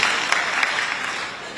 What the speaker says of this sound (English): Let's give a round of applause to Xiaomei for giving us a huge support for organizing the conference.